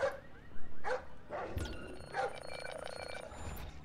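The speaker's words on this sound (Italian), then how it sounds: "sta arrivando il cane malefico" A guard dog in Splinter Cell Blacklist barks a few sharp, close bow-wows in quick succession, followed by whimpering yips over low game background noise.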